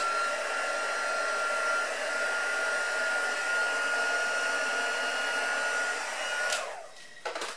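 A heat tool blasts steadily to dry a paint pot of Brusho-style colour, a loud continuous whirring roar that runs for several seconds before cutting off, then sputters briefly again near the end.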